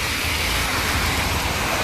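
Heavy rain pours down in Paris near a police station building, a steady, dense, close hiss that fills the scene without pause.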